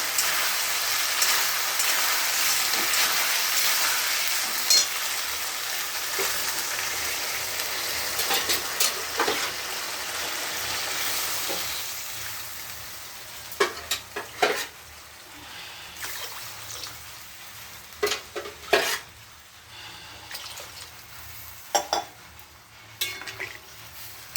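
Water poured into curry masala frying in a pan sets off a loud, broad sizzle that gradually subsides, followed by quieter spattering and a few sharp clicks of a spoon against the pan.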